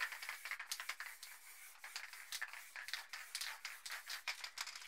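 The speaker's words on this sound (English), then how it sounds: "spray all that in now with the black." Black spray paint hissing from a can for spray paint art, a series of short, quick bursts with a faint rattle, close and fairly quiet, no talking.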